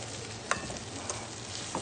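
Onions frying in a pan, a steady soft sizzle with a few sharp pops and clinks of stirring, with no talking.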